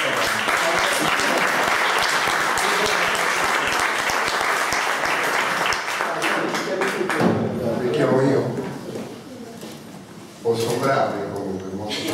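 An audience at a book presentation on Fabrizio de André claps steadily in dense, sustained applause for several seconds, which thins out as voices and room noise take over toward the end.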